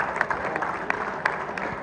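Audience at a mushaira applauding to welcome a guest poet from Pakistan, a dense, even patter of many hands clapping at moderate distance, with a few sharper claps standing out.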